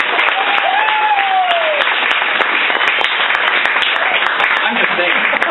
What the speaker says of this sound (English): Huge round of applause for Mr. Gord Oxley for designing the cover.